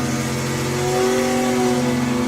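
A BMW race car making a solo timed run at a motorsport festival, its engine a loud, steady mid-pitched drone that rises slightly in pitch as it accelerates past, with no talking.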